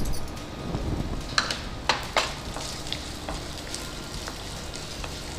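Moong dal sizzles in hot ghee, a steady close frying crackle with a few sharp clicks from stirring in the pan.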